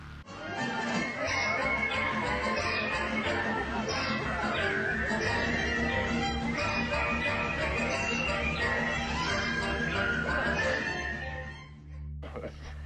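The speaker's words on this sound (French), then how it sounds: "avec énormément d'oiseaux animatroniques pouvant bouger leur bec, leurs ailes et même pouvant chanter" Animatronic birds of the Enchanted Tiki Room chirp and trill in a busy, sustained chorus over music and talk, with whistled sliding calls before the sound drops away near the end.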